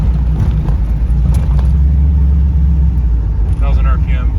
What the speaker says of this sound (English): I'm doing about 25 miles an hour residential street. I'm basically at idle